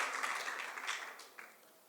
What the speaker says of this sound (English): They're clapping for you now.